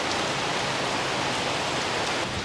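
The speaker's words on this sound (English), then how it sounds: "The rain is really set in" Steady heavy rain falls in Saigon, a dense, even hiss of drops on surfaces that continues without a break, close and fairly loud, with no voices.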